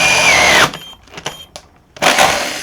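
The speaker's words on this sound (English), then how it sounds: "If I just let the weight of the drill force its way through" A Festool TI15 impact drill driver bores through material, whining loudly at first, then slowing and stuttering as it cuts, then surging back to full speed, close and harsh.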